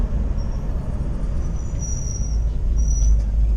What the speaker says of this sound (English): Get a little squeak in my brakes, I notice